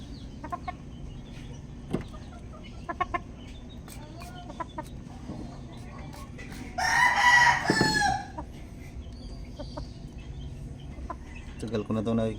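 Farmyard chickens cluck in short scattered calls while a rooster crows loudly once mid-way, with more clucking and someone talking quietly around them in an outdoor setting.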